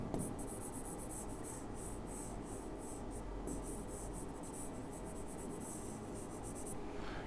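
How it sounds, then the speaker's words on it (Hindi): Someone rubs an eraser across a board to wipe off writing, producing a continuous close scratchy rubbing in uneven strokes that fades out near the end. "ये थोड़ा सा मैं इरेज कर दे रहा हूं।"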